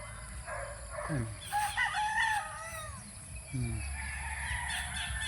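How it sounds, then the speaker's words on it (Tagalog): Native fighting roosters crow repeatedly, rising and falling calls from a couple of birds at moderate distance over a steady low rumble of background noise. "daming tumitilawak na manok. Mga panabong yun."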